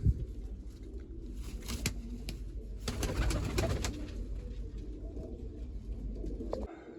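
Pigeons coo softly in a low, repeated murmur, with rustling and a few sharp clicks and flutters nearby.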